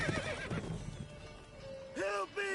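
Roach, Geralt's horse in The Witcher video game, gives a loud whinny near the end, with hoof clip-clop and a voice heard earlier, all set against game ambience.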